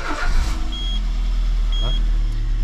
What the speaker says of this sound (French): Mais je vais quand même démarrer mon moteur tout de suite.